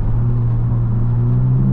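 A V6 Dodge Charger tuned for a loud burble rumbles close and heavy while accelerating, a deep continuous engine drone with no talk over it.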